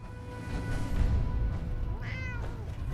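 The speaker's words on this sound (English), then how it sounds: "I hear a cat." A cat meows in the Fallout 4 video game, two rising and falling calls close by over a steady low game ambience, the second meow clearer and more tonal.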